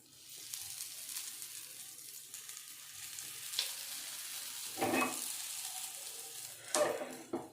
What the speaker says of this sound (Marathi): आणि या साईडने थोडंसं फ्राय करून घेते मी